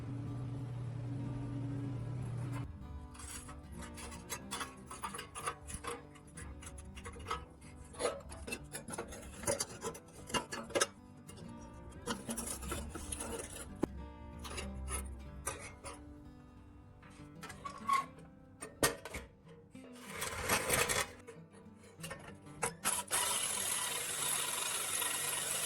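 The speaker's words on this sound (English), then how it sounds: "to dismantle it, requires the use of a drill. Drilling depth 3 to 4 millimeters." A drill bores out the studs holding together a 1957 Tonka Rescue Squad Metro Van toy. Grinding and rasping bursts repeat with short pauses over a long stretch, close and fairly quiet, with a louder surge near the end.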